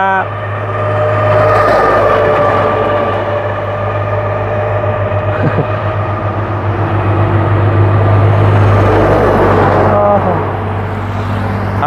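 Heavy engine rumble and road noise from large trucks passing nearby in Sepon, Savannakhet, Laos, loud and sustained throughout, swelling as they go by.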